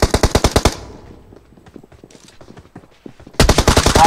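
Rapid machine gun bursts in a shooting video game, one loud burst of about eight evenly spaced shots, then a quieter gap with faint clatter, then another loud burst of fire at the end.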